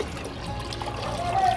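Water is poured into a container of saved rice-washing water with Epsom salt to make fertilizer, a steady close trickle and gurgle that fills the short stretch.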